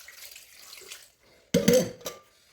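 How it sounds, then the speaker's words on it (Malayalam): Water poured into a pot for a country chicken curry, a sudden short splashing gush after a quiet start, then a brief second splash, close and fairly loud. "ഇനി ഇതിനകത്ത് ഇച്ചിരി വെള്ളം ഒഴിച്ച് അടുപ്പ് വെക്കാം."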